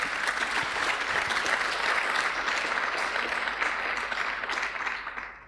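An audience at a Perl conference keynote, YAPC::Europe 2016, breaks into steady, dense applause that carries for several seconds, then fades out.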